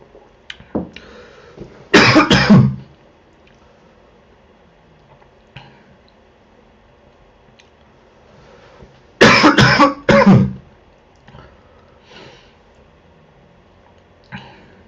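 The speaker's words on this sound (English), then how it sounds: "Apologies for my coughing." Two separate bursts of harsh coughing, each a quick cluster of two or three coughs, close to the microphone with quiet gaps between.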